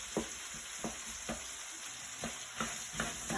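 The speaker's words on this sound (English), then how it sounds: "you want to get all those yummy bits off the bottom of the wok" Food fries on medium-high heat in a wok while a utensil scrapes and stirs it. Rhythmic clacks and scrapes repeat about every half second over a constant sizzle, with no talk.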